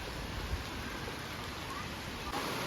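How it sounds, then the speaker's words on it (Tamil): Monsoon rain falls steadily at Yana Caves, a soft, even hiss of drops across the whole clip, fairly faint and continuous with no talking. "மழை கொஞ்சம் ஹெவியான மாதிரி தெரியுது"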